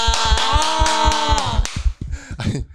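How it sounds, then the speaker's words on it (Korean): Rhythmic clapping in a small talk-show setting, a run of even, evenly spaced claps that later becomes irregular. A sustained musical tone plays underneath at first, and voices come in toward the end. "박수 한번 치고 축하드려요"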